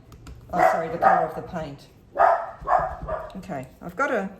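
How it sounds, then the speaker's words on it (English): A dog barks several times indoors, with short loud yelps and whimpers mixed in over a person talking close by. "Apologise for my dog, somebody's driven up the driveway."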